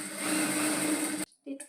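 A sewing machine runs steadily, stitching the shape belt of a piping blouse, with a close, continuous whir that stops abruptly near the end before a brief restart.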